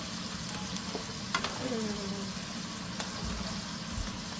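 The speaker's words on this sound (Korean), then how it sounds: "나머지 반을 또 튀기고" Homemade burger fillings fry in a pan at home, a steady close sizzle and crackle running throughout with a few brief clinks, moderately loud and without talk.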